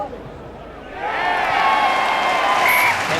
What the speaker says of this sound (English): Kelly Sweeney puts over the conversion, and that's what the crowd wanted. They've got something to cheer about.